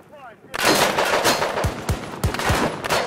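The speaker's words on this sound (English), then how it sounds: "I'm taking fire here!" Rapid gunfire in Battlefield 2042 fills the scene, sustained loud bursts with several sharp close shots standing out near the end, after a brief quiet lead-in.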